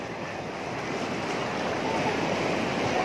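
A steady, loud wash of ocean surf at Indrayanti Beach, Gunung Kidul, Yogyakarta, waves rushing and hissing continuously with wind noise, close by.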